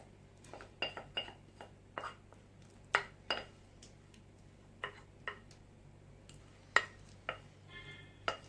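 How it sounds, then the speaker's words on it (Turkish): A utensil clinks and taps against a bowl while eggs are stirred into a spinach-sauce mixture, producing irregular sharp knocks and scrapes, close and fairly quiet, with no voices. "İyice karıştırıyoruz."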